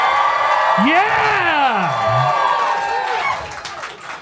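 A live audience at a talk roars with cheers, whoops and shouts, the loud, dense noise held steady for about four seconds before easing slightly toward the end.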